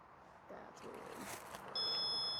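A handheld temperature gadget beeps while switched off, giving a steady high electronic tone that starts about two-thirds of the way in, after a faint murmur of room sound and light handling noise.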